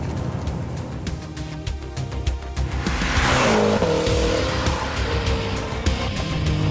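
A 2012 BMW M5/M6 under hard acceleration in sport plus mode with traction control off on a dry road, engine roaring steadily and loudly, swelling midway with a tire-squeal-like hiss.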